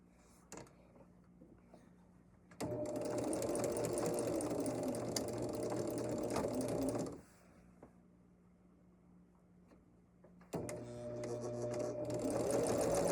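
A sewing machine chain piecing fabric runs in two steady, loud whirring bursts of several seconds each, separated by a quiet pause with faint handling clicks, recorded close with no talking.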